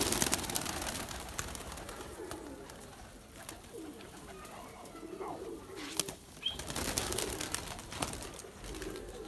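Pigeons of fine breeds at a rooftop loft coo softly while wings flap in sharp bursts, faint and scattered over an airy outdoor background.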